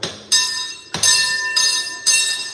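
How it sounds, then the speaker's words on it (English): A special bell rung by hand on Main Street at Disneyland, four bright loud clangs in close succession, each ringing on with a sustained metallic tone until the next strike. "it's been a long while since I've rang this very special bell right here"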